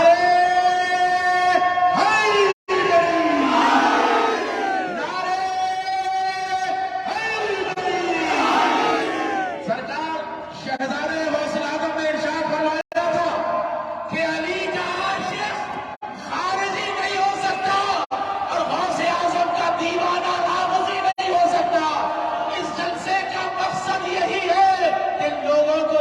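A large crowd at a religious conference in Hyderabad chants the slogan Nara-e-Haidari, loud repeated roaring calls that swell and fall in waves, with a leader's voice joining the chant.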